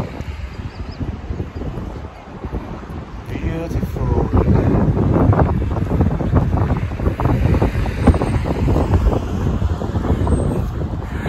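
Strong wind roars and buffets across the microphone in heavy gusts outdoors in Dinant, Belgium, growing louder after a few seconds, with a faint voice under it.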